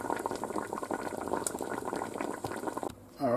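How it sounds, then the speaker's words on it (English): Hot liquid bubbles at a rolling boil inside a Ninja Foodi pressure cooker before a chuck roast is pressure cooked. The burble is close and steady, then drops off briefly near the end. "I wanted to come to a boil, because now it will come to pressure faster because the liquid is very hot"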